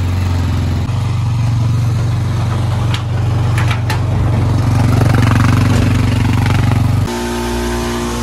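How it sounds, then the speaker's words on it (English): Air compressor running in a garage, with a loud, constant motor drone and hum that carries on steadily, then shifts pitch near the end, with no talking. "Got the air compressor running."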